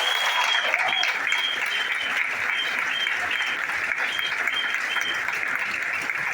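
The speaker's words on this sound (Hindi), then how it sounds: "3 देवियों के लिए एक बार जोरदार तालियां होनी चाहिए।" Dense, steady applause from a large audience at a stage event fills the whole stretch, loud and continuous with no pauses.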